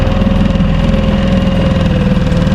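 Outboard engine on a Truekit Discovery 2.8 boat held at full throttle yet not reaching its revs, giving a loud, steady, close drone with a constant low throbbing pulse and no talk.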